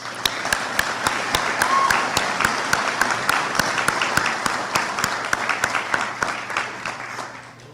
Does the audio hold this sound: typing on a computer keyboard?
no